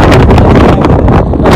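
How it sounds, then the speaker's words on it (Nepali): Strong wind blowing at a viewpoint of Al Kout Mall in Kuwait, loud rough buffeting across the microphone in a brief continuous gust. "क्या हावा चलिरहेको छ यार"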